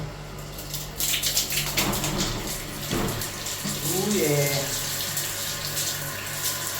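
Tap water runs in a washroom while a car tyre gets washed, a steady hiss and splash that grows louder as it hits the rubber, with a short spoken remark partway through.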